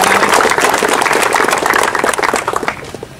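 Audience applause at an athletics selection event for a regional sports federation, a dense, loud wash of clapping that thins slightly toward the end.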